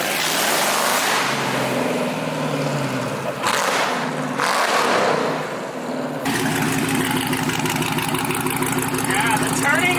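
Dodge Lancer GT drag build car driving off, engine revving and rumbling as it pulls away, with a sharp change midway into a steady, buzzy drone; people talk over it.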